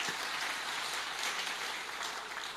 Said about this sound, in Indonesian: Tepuk tangan untuk Nahdlatul Ulama.